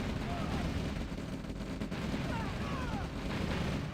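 Rapid gunfire crackles from Tanya clearing rifle and rocket infantry in a Red Alert match on OpenRA, dense bursts of shots mixed with other battle noise and faint whistling tones throughout.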